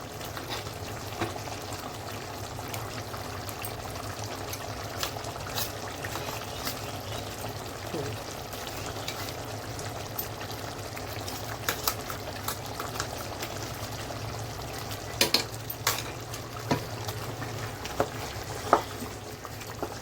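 A paste of roasted onion and dry coconut fries in a pan for a chicken dish, with a low, steady bubbling sizzle and occasional stirring clicks and scrapes.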